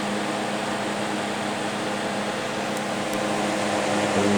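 An old electric fan motor runs on its own, close by and fairly loud, with a steady whirring drone and hum that holds level throughout.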